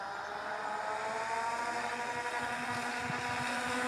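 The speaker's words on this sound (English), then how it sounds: "I turned the boat around and lined it up for a short mid-power run down the small lake." A DIY hydroplane speed boat makes a mid-power run down a small lake, its motor droning steadily as a loud continuous buzz with a touch of wind.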